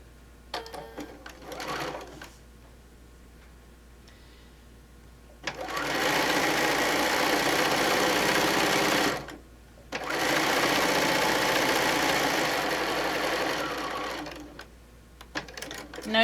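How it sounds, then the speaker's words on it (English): A sewing machine stitches a half-inch seam down the side of a folded handle, running in two long continuous bursts of rapid whirring with a short pause between them and brief starts before and after. "we're going to do a 1/2 inch seam running down the side of it"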